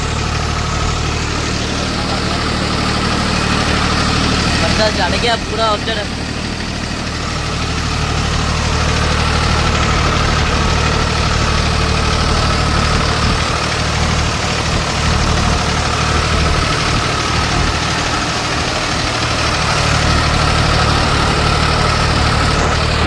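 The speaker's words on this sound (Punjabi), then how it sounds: "ਚੜ ਗਿਆ ਟਰੈਕਟਰ ਚਲਾਉਣ" A heavy diesel tractor engine idles steadily and loudly throughout on a farm during rice paddy work, with a deep rumbling drone and occasional rattling, while people talk nearby.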